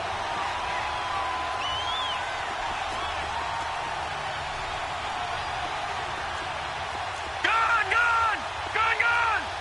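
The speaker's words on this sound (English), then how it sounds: "The crowd getting into it as we come up on a big 3rd down" A stadium crowd in a PS4 American football game roars steadily ahead of a big third down, a broad sustained rumble behind a voice talking.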